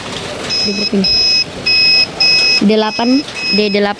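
A small buzzer wired to an Arduino Nano gives repeated high-pitched electronic beeps in an even on-off pattern, loud and close, while a person keeps talking over the beeps.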